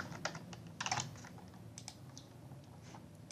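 Typing on a computer keyboard while entering vendor invoice details in hotel accounting software: scattered, fairly faint keystrokes in short uneven bursts, with no talking.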